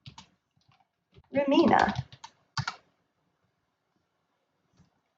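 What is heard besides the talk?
typing a terminal command on a computer keyboard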